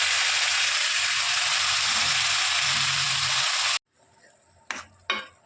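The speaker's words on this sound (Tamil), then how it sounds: "இப்போ கடைஞ்சி வச்ச பருப்பு எடுத்து சேர்த்துக்கலாம்" Mashed dal goes into a pan of sautéed curry leaves and asafoetida with a steady, hissing sizzle, then after a sudden drop to quiet two brief scraping stirs follow.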